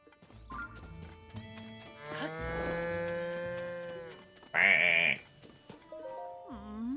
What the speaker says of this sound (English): Hateno cow. What a beautiful beast.